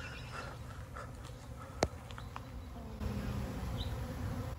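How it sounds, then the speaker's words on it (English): Bees buzzing inside an abandoned 1990s Burger King, a steady low hum that thickens toward the end, with a sharp knock partway through. "Just a couple of bees."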